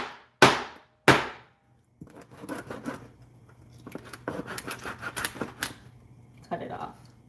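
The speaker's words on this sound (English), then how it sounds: "All right, I'm going to cut off the fin." Two sharp cracking snips ring out as a fin is cut from a fish for pumpkin fish soup without scissors, followed by rustling, handling noises and someone talking.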